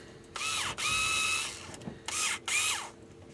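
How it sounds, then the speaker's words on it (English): A small Bosch IXO cordless screwdriver with forward and reverse whirs in four close bursts of high motor whine, each winding down in pitch as the trigger is released, with short pauses between pairs. "Bosch IXO little cordless jobby, which has got forward and reverse on it"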